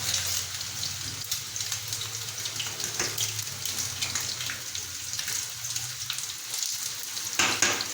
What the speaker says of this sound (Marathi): तळून घेते मी आता.